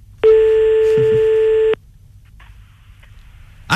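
A telephone call tone on a radio phone-in sounds as a single loud, steady electronic beep lasting about one and a half seconds, followed by quiet line noise and faint clicks.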